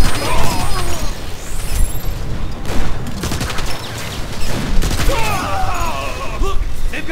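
Continuous gunfire in the video game Transformers: War for Cybertron, loud rapid bursts and laser-like zips layered with mechanical clanks, a sustained firefight with game voices shouting over it.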